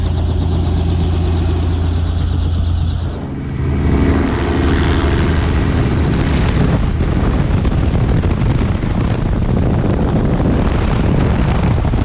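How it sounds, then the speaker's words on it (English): A helicopter at an airsoft field makes a loud, close, continuous engine and rotor roar, shifting after a brief dip into a denser, rougher wash of sound that holds steady. "The helicopter will take us behind enemy lines."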